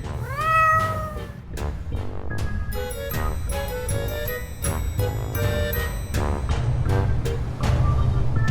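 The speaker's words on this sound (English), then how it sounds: "The cat meowed happily" A cat meows several times, some calls long and rising, others short, over a steady low rumble and scattered bright chiming tones.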